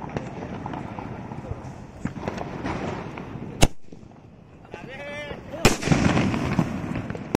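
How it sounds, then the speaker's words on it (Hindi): A Diwali sky shot firecracker is lit and fired outdoors after dark, giving sharp loud bangs and a fizzing whoosh between them, with a whistle-like rising tone, while people talk throughout. "शॉट को जला के देखते हैं ये वाला स्काई शॉट है कैसा चलता है।"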